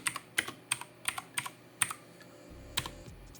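The diskpart command is typed on a computer keyboard: a quick run of about a dozen crisp, close keystrokes in an uneven rhythm, with no one speaking.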